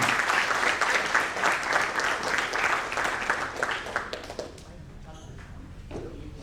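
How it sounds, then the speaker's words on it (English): An audience at a company annual event gives a big round of applause as the founders come on stage, loud steady clapping for about four seconds that fades into quieter room noise. "big round of applause for our founders, Mr. Nishant Bam and Mrs. Angita Sanchet. Please come here, big round of applause."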